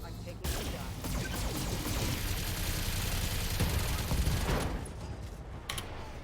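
Heavy mech weapons fire in the BattleTech video game, a dense sustained barrage of blasts and impacts lasting several seconds, with voices talking over it.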